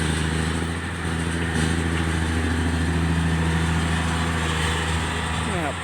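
A Komatsu PC120-3 excavator's engine runs steadily at moderate revs during an old pond dredging job, a continuous droning rumble with a faint rising whine near the end.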